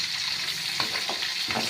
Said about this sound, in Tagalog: Okay, lagyan na po natin ang ating sibuyas.